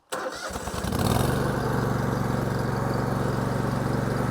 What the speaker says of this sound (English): And I like to start it at about mid-throttle. So we'll just turn our key here.